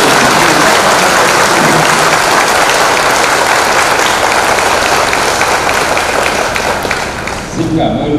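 A church congregation gives a loud, continuous round of applause during a religious vows ceremony, dense clapping filling the space throughout before fading near the end as a voice begins to speak.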